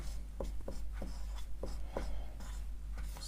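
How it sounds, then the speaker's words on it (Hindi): A pen or chalk writes during a class 10 maths lesson, a run of short, quick scratchy strokes in uneven rhythm, close and moderately loud with no talk over them. "अब लिखेंगे"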